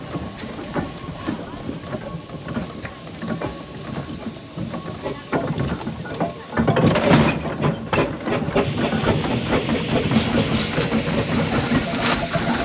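Single cylinder steam traction engine moving forward at a steam festival, its chuffing exhaust and mechanical clatter close and steady, growing louder and busier midway as it gathers pace.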